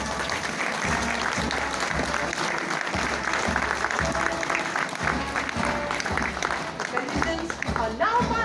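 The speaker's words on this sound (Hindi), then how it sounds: "मार्चिंग दस्ते का तालियों से स्वागत करें।" Steady applause from a crowd welcoming a marching contingent at a parade, dense clapping that carries on throughout, with voices mixed in.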